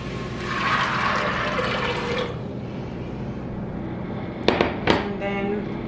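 Water is poured into a pot of yellow peas for Bengali ghugni: a steady splashing pour lasts about two seconds, then falls quieter, with a couple of sharp clinks near the end.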